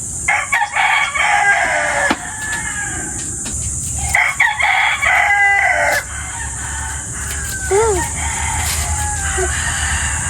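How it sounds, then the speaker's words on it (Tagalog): Chickens and a rooster crowing and clucking nearby, several overlapping calls over a constant high insect-like hiss and a low background hum, with brief human sounds in between. "Manok, chicken."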